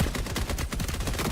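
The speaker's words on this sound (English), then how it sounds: "once the gunfire stops" Rapid automatic gunfire in a multiplayer shooter video game, dense overlapping bursts of shots crackling continuously and loudly with no pauses.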